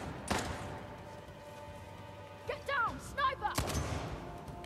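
Gunfire in Uncharted: The Lost Legacy as an ally shoots at enemies, a few sharp broadband cracks spread over a few seconds amid game sounds and brief whistling effects.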